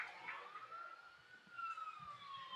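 A wailing emergency siren sweeps through the streets of Cherryville during an evening radio baseball broadcast, its pitch rising and falling steadily, fairly faint and distant, heard alone with no talk over it.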